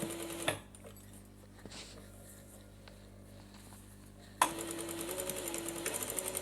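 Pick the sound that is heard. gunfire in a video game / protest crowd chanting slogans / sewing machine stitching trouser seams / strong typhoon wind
sewing machine stitching trouser seams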